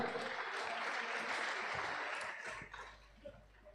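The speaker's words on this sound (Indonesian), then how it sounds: "Sekali lagi mari kita berikan tepuk tangan yang meriah." Audience at a church youth Eucharist event launching the IYD 2023 theme song and logo gives warm applause, a dense wash of clapping that fades out toward the end.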